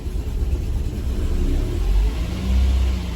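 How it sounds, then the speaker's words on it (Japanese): A cold Mercedes-Benz W201 190E four-cylinder engine runs unevenly after starting without the accelerator pressed, its idle rumble rising and falling in low surges, close and steady with no talk. "セルを全く踏まずにエンジンを始動させた時の動画です。"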